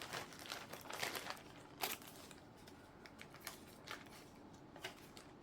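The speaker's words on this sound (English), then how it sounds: "I've got a plastic bag and I've written their names on paper, and I'm going to draw one out" Paper slips bearing written names crinkle and rustle inside a plastic bag, a close run of soft crackles and rustling bursts with no talk.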